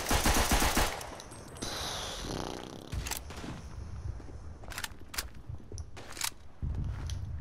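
Rapid bursts of gunfire in the Verdun video game, sharp shots and cracks over a busy noisy background, loud and close, with no one speaking.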